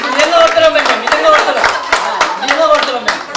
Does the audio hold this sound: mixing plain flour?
no